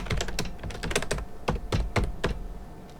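Computer keyboard typing, close and fairly quiet: a quick irregular run of clicky keystrokes and thunks over about three seconds, with no voices.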